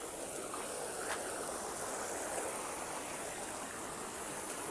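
Steady rushing water from a flowing village stream, a constant broad hiss at low level with no breaks and no voices.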